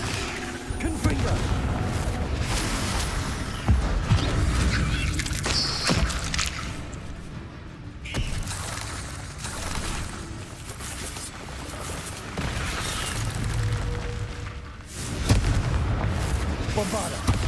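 Rapid blasting-spell explosions and magical combat effects from Hogwarts Legacy rumble almost continuously for many seconds, loud and dense, with a voice shouting spell names over the din.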